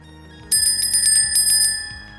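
A bright, rapid ringing notification alert goes off suddenly and trills for about a second over a low steady background, then fades.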